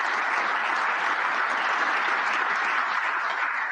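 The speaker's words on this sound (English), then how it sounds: "Not the last bit of applause that I get" Steady, dense audience applause at a security conference fills the room from start to finish, broad and even with no pauses or individual voices standing out.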